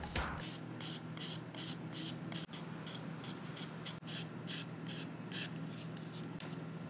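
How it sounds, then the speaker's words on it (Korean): A dried edge coat on a leather edge is smoothed with 800 to 1000 grit sandpaper, producing soft, rhythmic back-and-forth rubbing strokes that repeat steadily, close but faint, with no voices. "이 상태에서 800 내지는 한 1000방 정도의 사포로 아주 부드럽게 정리를 해주는 거예요."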